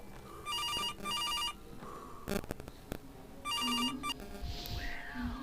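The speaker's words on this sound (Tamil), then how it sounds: "ஃபோன் அடிக்குது ப்ரோ." A phone rings inside the Case Animatronics video game: three bursts of an electronic trilling ringtone separated by pauses, with knocks, thuds and other game effects in between.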